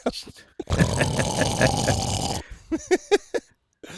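A loud, raspy snore rumbles for a couple of seconds, followed by a few short grunting snorts before it falls silent.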